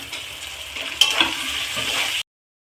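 Chopped onion, ginger-garlic paste, chilli paste and tomato fry together into a masala for chicken kosha. A steady, close sizzle continues with a stirring scrape partway through, then stops abruptly.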